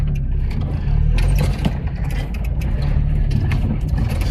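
A restored Maruti Suzuki car is driven, heard from inside as a steady low engine drone with road rumble and scattered rattles and knocks throughout, without any talking.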